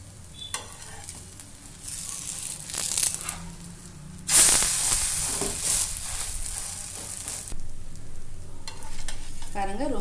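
Dosa-style batter spreads and cooks on a hot pan for a simple breakfast tiffin, giving a steady sizzle with bursts of frying hiss and a few scraping sounds, close and alone without any talk.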